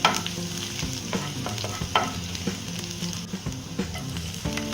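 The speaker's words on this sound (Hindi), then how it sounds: "हम इसमें सबसे पहले गार्लिक डालेंगे, इसे हल्का सा भूनेंगे।" Garlic fries in a pan over a high gas flame for vegetable fried rice, a continuous close sizzle broken by several sharp scraping stirs of a spatula, with no speech.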